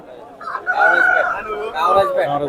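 A rooster at a village poultry market crows loudly and close by, two strained, drawn-out calls following one after the other.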